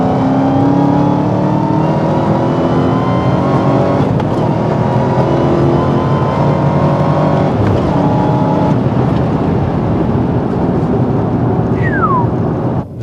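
A Dodge Challenger Hellcat with a manual six-speed gearbox is driven at night, its loud engine droning and revving continuously from inside the cabin as it runs up through gears, with no talking.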